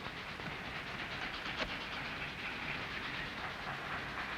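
Train rolling past in a 1951 war film, a steady, fairly faint rumble with a soft rhythmic rattle of wheels, no voices.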